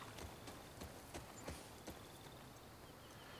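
Horse hooves clip-clop at a steady walking pace in The Last of Us Part II, soft and fairly distant over a constant background hiss.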